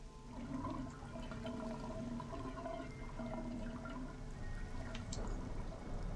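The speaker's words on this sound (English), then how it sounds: "Drain the tub?" Water gurgles and rushes steadily as a bathtub drains in Resident Evil, a continuous watery churn with faint drips, loud and close throughout.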